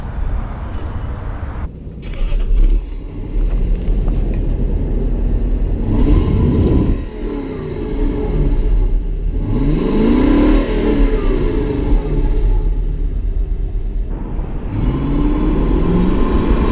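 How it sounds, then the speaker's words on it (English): A 1996 Lexus LS400 with a 4.0 liter V8 accelerates hard, its engine rising and falling through several revving surges with a loud, steady rumble close by. "So for being a big V8 in such a big and heavy car, it's actually pretty quick"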